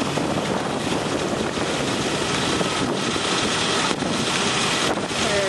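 Steady, roaring wind buffets the microphone continuously on a sailboat in the Florida Keys, with a broad rushing noise over swelling water and no voices.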